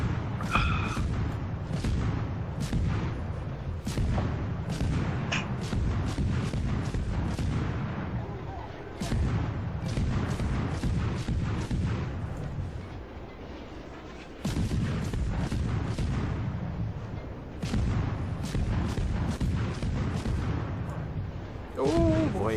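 Naval battle in the Warships video game: rapid torpedo and artillery blasts, loud booming detonations one after another with dense rumbling between them, and voices talking over the barrage.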